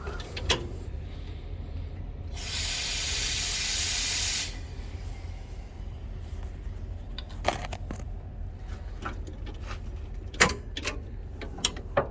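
A steady hiss of gas being purged on a Komatsu FG25 forklift runs for about two seconds, amid faint ambient rumble and scattered sharp clicks and taps.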